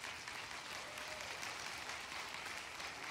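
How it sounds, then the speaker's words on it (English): An audience at a church podcast event claps steadily, a dense continuous wash of applause heard from within the crowd with no voices over it. "Come on, let's give them a hand clap of praise as they come."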